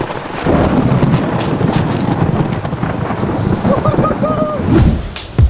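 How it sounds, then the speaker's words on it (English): Thunderstorm with rain sweeping over a lakeshore, a dense continuous roar of wind and rain buffeting the microphone with low rumbling throughout, faint voices briefly audible beneath. "So we got rained out with the shore lunch"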